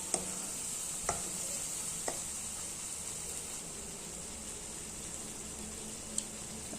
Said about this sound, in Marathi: आता हे आपलं सारण परतत आलेलं आहे